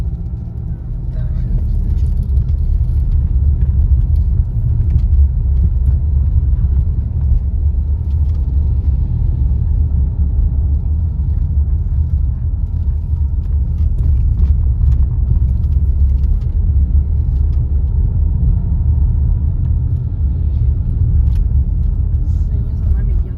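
A car climbs a mountain road up to Ai-Petri, its interior filled with a steady, loud low rumble of engine and tyres throughout, while people inside chat over it.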